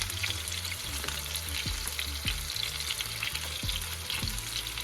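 Meatballs sear in a frying pan with a steady, moderately loud sizzle, punctuated by several soft thuds and scrapes as they are turned, no voices present.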